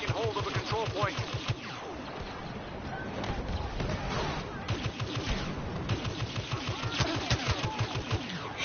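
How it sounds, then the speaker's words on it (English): Blaster fire in Star Wars Battlefront rattles in quick repeated bursts through a busy battle mix, while someone talks over it at moderate level. "Shooting that guy at his Imperial bucket head"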